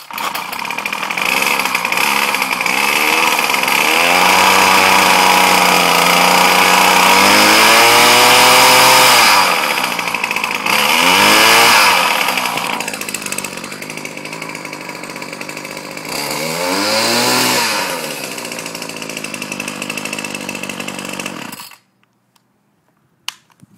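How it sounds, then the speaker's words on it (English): A Ryobi gas weed eater runs after a cold start, its small two-stroke engine buzzing loud and close, revving up and down in several surges before cutting off abruptly. "I've never actually cold started this engine."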